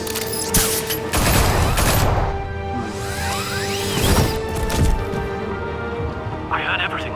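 Video game gunfire from Batman: The Telltale Series: sharp cracking volleys and shots mixed with whooshes and impacts, loud and close, with voices speaking over the action.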